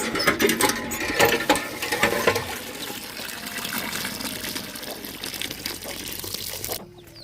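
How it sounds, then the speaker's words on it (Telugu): Water gushing from a hand pump outdoors, a continuous splashing flow that is loudest at first and then settles into a steadier stream before cutting off. "నీళ్ళు వస్తున్నాయి తీసురా"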